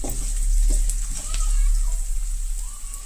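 Peanuts fry in a pan for poha upma, giving a steady, close sizzle with a constant crackling hiss and a few small pops.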